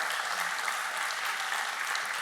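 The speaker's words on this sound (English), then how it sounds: "So big round of applause here." Audience applause after a talk at a Bitcoin conference, a steady, fairly distant patter of many hands clapping, even in level throughout, with no voices.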